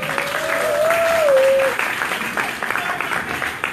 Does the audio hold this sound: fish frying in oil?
no